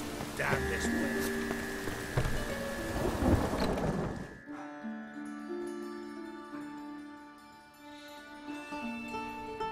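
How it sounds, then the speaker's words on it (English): A thunderstorm with rain rolls through the video game The Witcher 3, with a loud rumble of thunder and steady rainfall that cuts off abruptly, leaving background music and ambience. "The storm, damn it."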